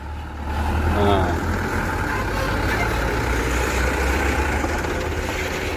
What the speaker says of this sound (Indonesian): Nah, ada penyeberangan dari truk.